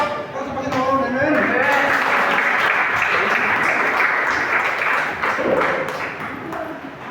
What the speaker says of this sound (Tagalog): Palakpak para sa Panginoon.